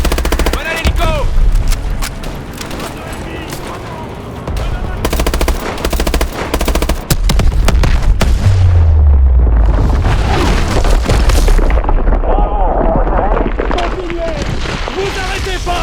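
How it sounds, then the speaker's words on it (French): Loud video game battle: rapid machine-gun bursts, scattered gunshots and deep booming explosions, with shouted voices over the continuous combat noise. "On ne peut pas s'approcher de ces explosions."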